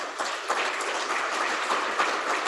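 Guests at a chamber of commerce awards luncheon applaud, a dense, even patter of many hands clapping at once that holds at a steady level throughout.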